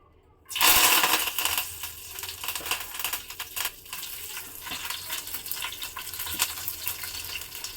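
Curry leaves hit hot oil with a sudden loud burst of crackling and sputtering, then settle into continuous close, popping sizzle with no talk.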